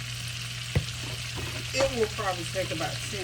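Fish seasoned with complete seasoning fries in hot oil, giving a steady sizzle with a brief sharp knock partway through, while a person talks over it.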